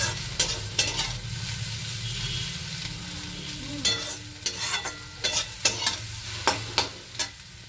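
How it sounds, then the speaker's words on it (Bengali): Potatoes fry in a pan with a low sizzle while a utensil stirs and scrapes them in a run of irregular, close strokes that grow busier toward the end. "আর একটু নাড়াচাড়া করে নামিয়ে নেব।"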